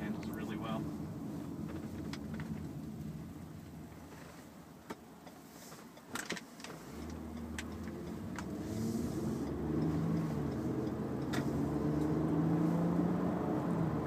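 A 2013 Toyota Avalon accelerating on the road, with a steady low engine and road hum that swells gradually toward the end, and occasional clicks and light cabin noises over it.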